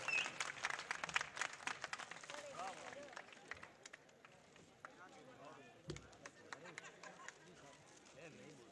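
Applause from the audience welcomes poet Dr Nawaz Deobandi at a mushaira in Ahmedabad. The clapping is fairly distant and strongest at the start, then thins out into scattered claps and room murmur.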